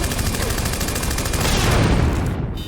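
Dense, rapid gunfire in an animated film rattles continuously, a loud fusillade of overlapping shots with no pauses, close and harsh throughout.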